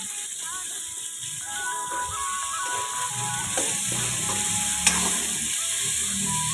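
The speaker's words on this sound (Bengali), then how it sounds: "তেলটার মধ্যে আদা পেঁয়াজ রসুন কিছুটা" Ginger, onion and garlic sizzle loudly in hot oil in a pan beside raw green banana pieces, a steady close hiss with occasional stirring clinks and a brief sharp knock.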